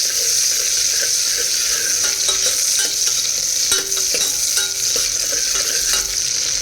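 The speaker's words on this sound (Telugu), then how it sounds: "ఆనియన్స్ కొంచెం ఫ్రై అవ్వాలి" Onions fry in a hot pan for a Dhaba-style mixed vegetable curry, a loud steady sizzle with faint stirring scrapes and the odd clink of a utensil, and no voices.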